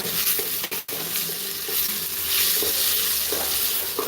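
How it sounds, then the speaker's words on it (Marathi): Potatoes stirred into khichdi in a hot pan, a dense sizzle with scraping and clattering of the spoon and a sharp clunk near the start, close and loud with no talking. "बटाटा घातला मी आता आणि याला छान असं मस्त मिक्स करून घ्यायचं आहे"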